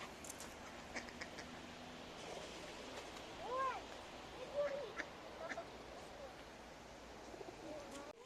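Distant duck quacks come in a few scattered bursts over faint outdoor ambience, with a low murmur of people in the background.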